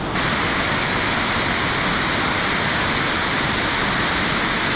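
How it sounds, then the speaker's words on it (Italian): A roadside waterfall in Switzerland pours in a loud, steady, unbroken roar of rushing water, heard close by without pause. "trovarsi questa cascata sulla vostra destra è estrema emozione"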